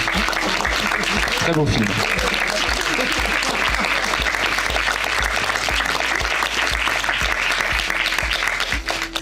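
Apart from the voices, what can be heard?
audience applause for filmmaker Axel Boutet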